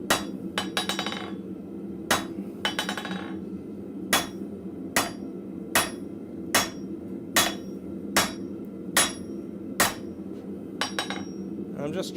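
Blacksmith's hammer striking hot metal on an anvil at a forge, a quick cluster of ringing blows and then a steady series of single sharp strikes at roughly one per second, fairly close.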